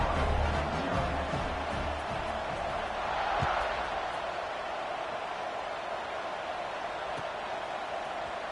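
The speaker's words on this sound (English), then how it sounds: "this crowd is buzzing after that last score" Football stadium crowd buzzing steadily after a score, a dense continuous roar of many voices with a swell around the middle, mostly alone with little distinct talk.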